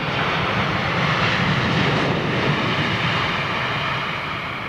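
An Etihad freighter in old livery roars at close range in fog at Heathrow Airport, a loud, dense, continuous rumble and rush of engine noise that holds steady and eases only slightly toward the end.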